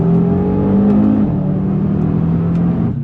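A 2019 Audi RS3 Saloon powers out of a tight hairpin in first gear, its engine loud and close with a steady droning roar that shifts pitch as it accelerates.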